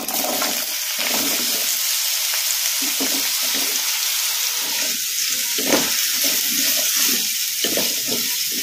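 Cut potato pieces frying in hot oil in a kadai produce a loud, continuous hissing sizzle with occasional stirring bumps, close and steady throughout, with no voices.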